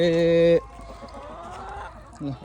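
A loud hen squawk opens, followed by quieter clucking and rustling, then another short cackle at the end.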